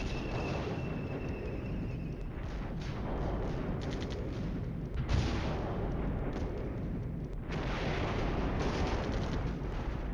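Artillery counter-battery fire in the video game Flashpoint Campaigns, heard as a dense, continuous roar of distant guns and rumbling blasts with several louder surges, no talk over it.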